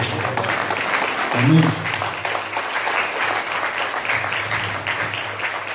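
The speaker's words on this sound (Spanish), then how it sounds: "Un aplauso para Dios." A church congregation applauds during a sermon, a steady roar of clapping with voices calling out over it and a brief spoken exclamation near the start.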